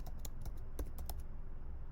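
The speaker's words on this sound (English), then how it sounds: "we are going to type in up here" Keys clacking on a computer keyboard in a short, irregular burst of typing, close and fairly quiet, with no voices.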